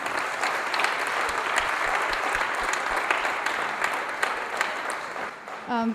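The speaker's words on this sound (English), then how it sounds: "Let's give a big round of applause." Audience applause at Sravani's Rangapravesam, congratulating her parents: a dense, steady wash of many hands clapping for about six seconds, with a voice and a brief tonal sound at the very end.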